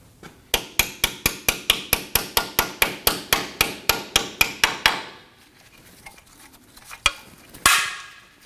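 A hammer taps out a bolt on a 2015-2024 Nissan Murano front control arm, about twenty quick metallic blows in steady rhythm, then a pause and two more strikes, close and sharp.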